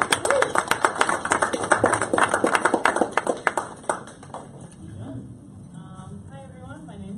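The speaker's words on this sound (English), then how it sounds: "please join me and a big round of applause for Miss Steph" Applause from a small audience at a weekly crypto and blockchain talk at the Blockchain Centre Melbourne, a few seconds of close, brisk clapping that fades out, with voices murmuring afterward.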